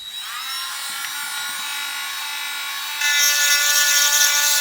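A Parkside PMGS 12 D4 engraving and model-making rotary tool grinds into wood, a loud high-pitched motor whine that steps up in pitch and volume partway through as the bit bites harder.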